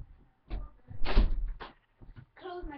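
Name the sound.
door being closed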